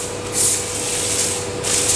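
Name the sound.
spraying canola oil spray onto foil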